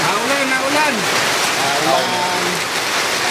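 Rain falls steadily during a motorcycle ride in the Ilocos region, a constant broadband hiss with a low droning tone weaving beneath it throughout.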